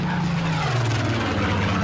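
Catalina flying boat engines drone steadily in flight, a continuous loud propeller hum with a slight pitch drop partway through and no voices.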